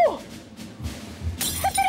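A Cheongsong white porcelain moon jar smashes on the floor in one loud, bright crash, glassy shards ringing and scattering for a moment afterward, close and alone.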